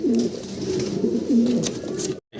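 Fancy pigeons coo steadily in low, throaty rolling phrases, close by at a pigeon market exhibition, with several overlapping calls before a sudden brief silence near the end.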